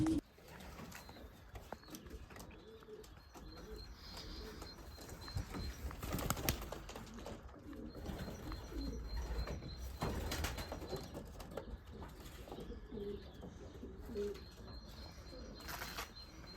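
Young racing pigeons cooing in a loft, soft repeated low coos with occasional wing flaps and rustling, steady and fairly close at a quiet level, no talking.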